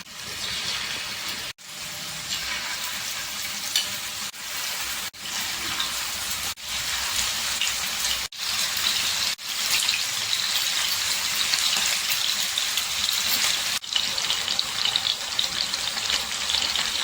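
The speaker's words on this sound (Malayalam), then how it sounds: "നമുക്കിനി ചിക്കൻ ഫ്രൈ ചെയ്തെടുക്കാനായിട്ട് ആവശ്യത്തിന് എണ്ണ ഒഴിച്ചു കൊടുക്കാം" Chicken pieces frying in oil in a hot pan, a continuous loud hiss and sizzle broken by brief near-silent gaps, growing a little fuller toward the end.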